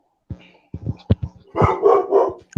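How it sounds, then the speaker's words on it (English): A dog barks in a burst of loud, close yips and barks, followed by a longer, rougher run of growling barks, with no talk over it. "Oh, that's my Oh dog."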